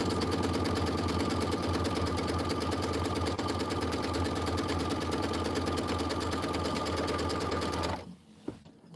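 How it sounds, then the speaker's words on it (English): A sewing machine stitches a quilt block, running steadily with a fast, loud, even mechanical rhythm for about eight seconds before stopping abruptly, leaving near silence with a faint click. "you're just going to let it do all of that incredible stitching"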